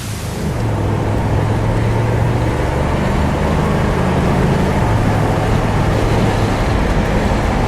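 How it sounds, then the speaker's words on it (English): A 1979 Chevrolet Camaro Z28 with a 350 V8 on the move, its steady low engine drone and road noise filling the cabin continuously and fairly loud, with no talking. "we thought we'd just take you on a little ride in the 79 Z28"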